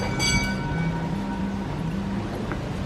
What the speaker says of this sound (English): There's a tour train.